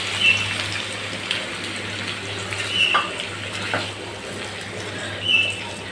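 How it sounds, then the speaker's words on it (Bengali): Water splashes into a pan of stone-ground spice paste during cooking, giving a steady watery hiss and bubbling with a few faint clinks and no voices. "এবারে মশলা বাটা পানি দিব।"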